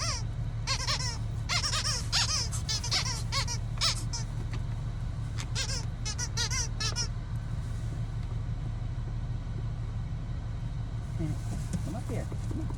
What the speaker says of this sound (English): favorite thing in the world is a squeak toy